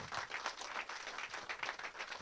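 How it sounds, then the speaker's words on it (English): Guests clap at a Congolese traditional wedding, a quiet, fairly distant round of hand claps with a loosely pulsing rhythm throughout. "Let's clap for that."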